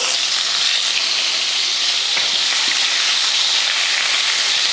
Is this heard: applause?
no